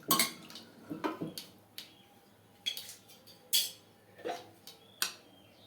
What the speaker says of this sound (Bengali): কাটা আলু দিয়ে দিলাম। একবার আমি নাড়িয়ে দিলাম।